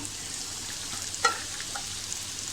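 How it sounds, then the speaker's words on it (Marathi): Soaked sago tipped into a pan of frying potatoes for sabudana khichdi and stirred, a steady bright sizzle with a single spoon clink partway through, no voices. "आता हे आपण साबुदाणे त्याच्यामध्ये टाकूया।"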